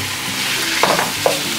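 Vegetables tumble back into a pan of sizzling tomato and spice masala for paneer jalfrezi, a steady frying hiss broken by a few distinct scraping clatters as they land and get turned, with no talking.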